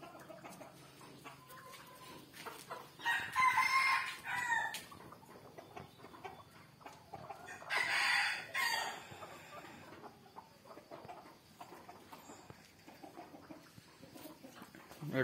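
Native desi village chickens on a poultry farm: hens cluck softly throughout while a rooster crows loudly twice, near and clear, against a quiet background.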